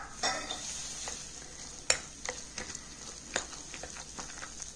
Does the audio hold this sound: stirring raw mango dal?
yes